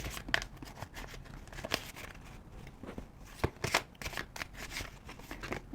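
Tarot cards being shuffled and drawn for a fire-sign horoscope reading, a close, steady run of crisp papery riffles and slaps with no talking.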